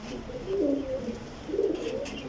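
Pigeons cooing close by in a loft of flying pigeons, two soft throaty coos in succession with a low rolling tone, no talking.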